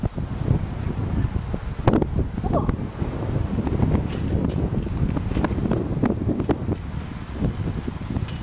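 Steady outdoor wind buffets the microphone, rumbling loudly throughout with rustling and gusty bursts, no voices.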